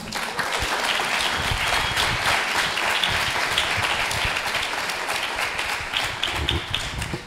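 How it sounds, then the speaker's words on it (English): Audience applause for an entrepreneurs' panel at a TiE Atlanta monthly meeting, a dense steady clapping that holds evenly loud for the full stretch with no voices on top. "Guys, a round of applause for this wonderful panel."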